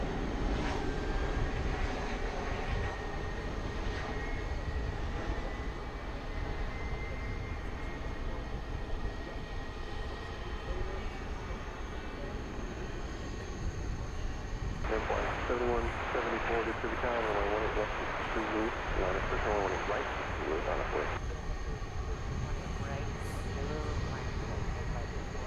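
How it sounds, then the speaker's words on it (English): A Boeing 767-300 freighter takes off at night at DFW Airport, its engines a distant, steady roar that swells and wavers midway through over a constant background hum. "this one's going to Louisville, but it'll also be taking off from over here based upon its angle of attack"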